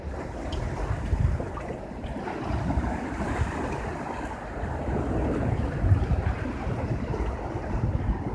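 Water sloshes and rushes beneath a collapsed jetty, a continuous low churning with gusty wind noise, steady and fairly close, no talking.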